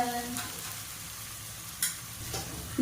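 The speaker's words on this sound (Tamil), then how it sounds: "வெங்காயம் வந்து ஒரு ரெண்டு நிமிஷம் வதங்கினதுக்கப்புறம் நான் வந்து காய்கறி வந்து போட்டிருக்கேன் இப்போ இது எல்லாம் நல்லா வதங்கிடுச்சு" Onions and mixed vegetables sautéing in oil in a pot for veg biryani, a steady soft sizzle with occasional stirring scrapes and clinks, close and moderate in level.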